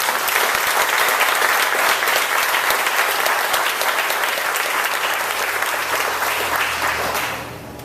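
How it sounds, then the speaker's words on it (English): Dense, sustained applause from a crowd gathered at a sign unveiling honoring Candice Glover, loud and steady throughout before tapering off abruptly at the very end. "please give them a big applause"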